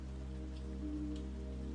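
Steady, soft rain falls outside on a gray morning with a low, continuous patter and a constant low hum underneath, fairly quiet and unbroken by voices.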